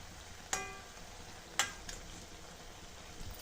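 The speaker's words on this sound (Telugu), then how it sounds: "వడ అయితే డీప్ ఫ్రై అయిపోయింది." Vada deep frying in hot oil, a soft continuous sizzle with two sharp metallic clinks of a ladle against the pan, no voices.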